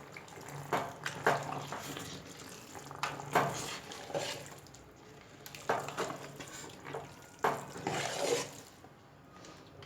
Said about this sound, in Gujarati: એક ગ્લાસ ભરીને આ રીતે પાણી રેડી દઈશું અને બરાબર મિક્સ કરી લઈશું